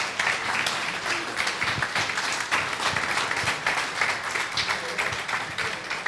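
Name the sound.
applause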